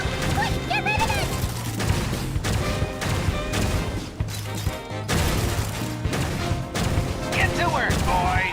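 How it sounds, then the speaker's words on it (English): A bomb explodes amid repeated booming blasts and crashes in an anime-style adventure video game, heavy impacts landing in rapid succession over a dramatic music score. "Ah, it's a bomb! Quick, get rid of it!"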